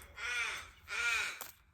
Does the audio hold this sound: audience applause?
no